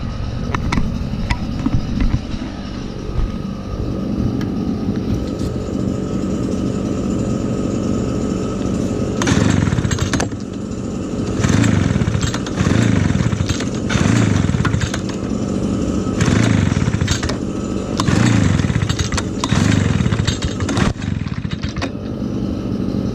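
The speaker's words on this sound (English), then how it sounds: "But here is the Husqvarna 155 BT. We're gonna do the same thing." A Husqvarna 155 BT backpack leaf blower engine runs cold in winter, starting at a steady rough idle and then rising into a series of loud, repeated revving bursts with short dips between them.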